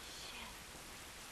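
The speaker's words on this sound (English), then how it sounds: "This rain ain't gonna do us any good." Steady rain in the video game The Last of Us, a dense, even hiss of falling rain that fills the whole moment without pause.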